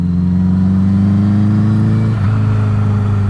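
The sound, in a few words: car driving while scrubbing in new tyres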